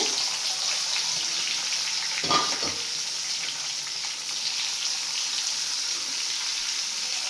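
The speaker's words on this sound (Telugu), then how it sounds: "ఇలా కలిపేసుకొని ఇలా ఆయిల్లో వదిలేసుకోవాలి" Cheese nuggets fry in hot oil with a steady, close, even sizzle throughout, broken by one brief clunk of a utensil partway through.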